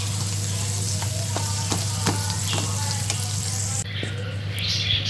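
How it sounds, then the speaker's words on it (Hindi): Garlic frying in oil in a pan, a dense steady sizzle with a few spatula scrapes and clicks, briefly shifting tone near the end over a low constant hum. "अब मैंने इसमें लहसुन डाल दिया है, अब इसको मैं भूनती हूँ अच्छे तरीके से"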